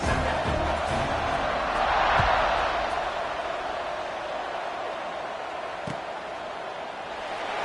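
Stadium crowd at an American football game after an extra point, ready for the kickoff: a broad, steady roar of many voices that swells briefly early on, then holds at a high level.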